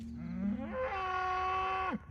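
A cow lowing in a field beside a coastal road lets out one long, loud moo that swells and then holds a steady pitch before breaking off, with no one talking.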